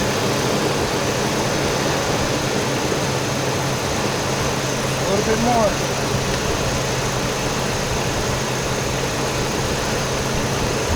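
Toyota car engine idling with the hood open during thermostat and antifreeze work, a steady low hum throughout with a brief voice speaking over it.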